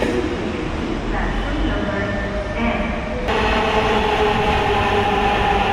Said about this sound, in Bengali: যাত্রা শুরু হচ্ছে ঢাকা মেট্রো রেল দিয়ে।